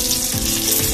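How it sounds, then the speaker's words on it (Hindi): Already fried onions hit hot oil for a village-style kala chicken, giving a brief, loud, steady sizzle up close with no talk. "भुना हुआ प्याज फिर से ऐसे फ्राई कर देंगे तेल में"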